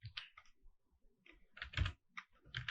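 Someone types code on a computer keyboard in short bursts of close, soft key clicks with brief pauses between them.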